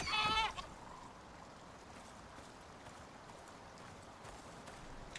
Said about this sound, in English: Surprise, goat!